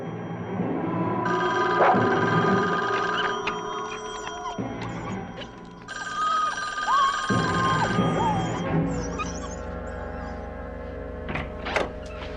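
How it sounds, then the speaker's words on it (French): A telephone rings in a dramatic scene, with high electronic ringing tones sustained over a dense music bed and scattered clunks and movement sounds. "la façon dont ils réagissent quand le téléphone sonne"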